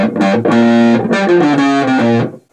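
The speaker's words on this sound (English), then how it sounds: "It's called their TL2 metal distortion. It gives a lot of gain and a lot of sustain for the sound." Electric guitar played through a Hardwire TL2 metal distortion pedal, loud high-gain chords with heavy saturated harmonics and long sustain, a few struck notes ringing close and alone before cutting off.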